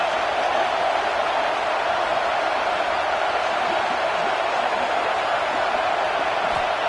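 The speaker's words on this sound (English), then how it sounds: "this crowd is fired up. Listen to this noise here" Football stadium crowd roaring early in a game, a continuous loud wash of cheering and noise filling the whole stretch without letup.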